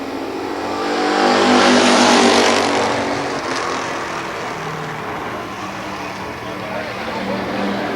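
Super late model stock cars roar around Columbus Motor Speedway, a loud, continuous engine drone that swells as the pack passes near and then settles into a steady far roar, with a race announcer talking over it.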